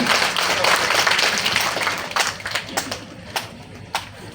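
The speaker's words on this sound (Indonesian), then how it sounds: "kita beri tepuk tangan ketua pasangan calon wakil bupati" Crowd applause for a vice regent candidate pair at a local election commission ballot-number event, a dense spread of clapping that thins into scattered separate claps toward the end.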